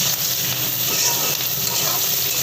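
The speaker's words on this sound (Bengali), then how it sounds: "এবার এটাকে নাড়তে শুরু করেছি" Egg chow mein without vegetables sizzles and fries in a wok while being stirred, a steady close hiss of frying with soft scraping movement throughout.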